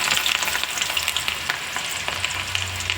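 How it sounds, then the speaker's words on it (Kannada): Pakoda batter dropped loosely into hot oil, sizzling and crackling steadily at close range with dense bubbling pops throughout, no voices. "ಈಗ ಎಣ್ಣೆ ಕಾದಿದೆ ಈಗ ಇದನ್ನು ಬಿಡಿ ಬಿಡಿಯಾಗಿ ಹಾಕ್ಕೊಂಬಿಡೋಣ"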